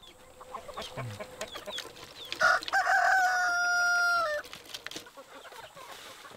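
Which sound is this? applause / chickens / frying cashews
chickens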